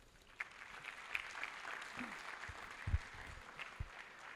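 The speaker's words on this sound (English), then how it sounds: "Let the applause be louder." Audience applause at a University of Abuja induction ceremony, a soft, fairly distant patter of clapping in a large hall, with a few brief thumps and faint voices underneath.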